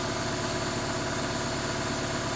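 A Honda donor car engine idling steadily, a close, loud, even mechanical drone with a regular low pulsing throb and no voices.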